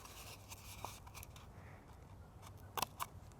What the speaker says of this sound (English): I'm going to take my scissors and kind of fold it just a little bit and make a little cut there